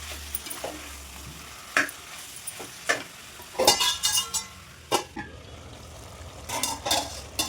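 Chicken for a dhaba-style chicken curry is stirred in a hot pan, with a low sizzle under irregular bursts of spatula scraping and metal clinks against the pan, close and uneven in rhythm.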